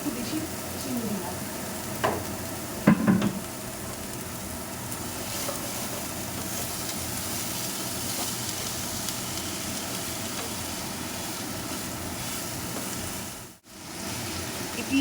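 Onion frying in a pan with sugar added, a steady close sizzle with a couple of clattering stirs early on and a brief dip near the end.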